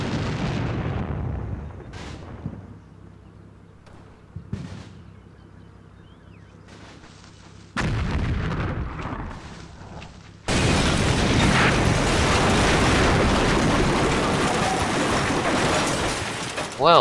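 Artillery fire and a building collapse in the wargame Combat Mission, set in the Italian campaign at the Gustav Line: distant booms and rumbles come first, then a sudden loud, sustained roaring crash of heavy debris that continues to the end.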